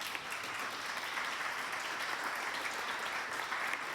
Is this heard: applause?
yes